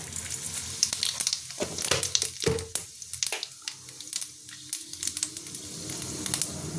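Dried red chilli and five-spice seeds hit hot oil for a fenugreek-leaf curry, giving a loud, close crackling and spitting sizzle with sharp pops and irregular bursts throughout.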